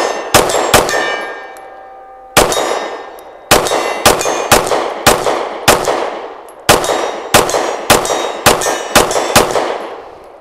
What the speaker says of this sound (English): See if I can shoot a little quicker on that steel.